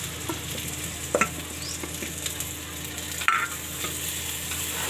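Stuffed raw gunda are stirred with leftover masala in a pan, a soft, fairly faint sizzle running underneath, with a few scraping strokes and brief clinks near the start and again later.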